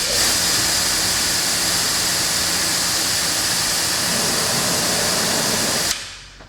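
Adam's Pro Series electric pressure washer sprays steadily from the nozzle at about 1100 PSI, a loud, continuous broadband hiss and rush of water that runs unbroken for several seconds before cutting off abruptly near the end.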